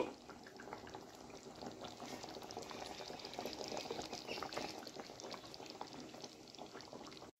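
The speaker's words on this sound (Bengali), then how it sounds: "মিনিট 3-4 সময় ধরে একটু ফুটতে দেব।" A yogurt-based rohu fish curry simmers in a pan, bubbling softly and steadily at a low, even level the whole time.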